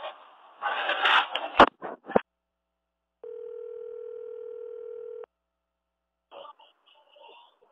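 A telephone tone sounds after a call drops: a steady electronic beep lasting about two seconds, with brief phone-line voice fragments before and after it.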